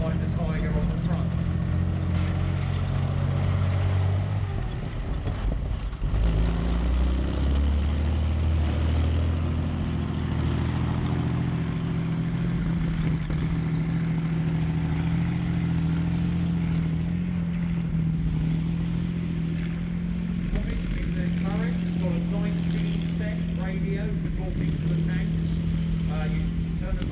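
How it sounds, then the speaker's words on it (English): A tank's Meteor engine runs at the rear of the vehicle, a steady, deep mechanical rumble that continues throughout while people talk over it. "that great Meteor engine in the back"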